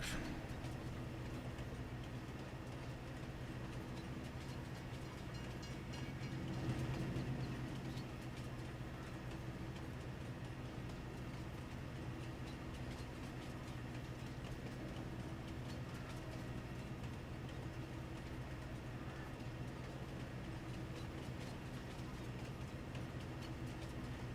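A train rolls past in Farming Simulator 22 on the Erlengrat map, a steady low rumble and hum that holds evenly throughout without fading, with no talking.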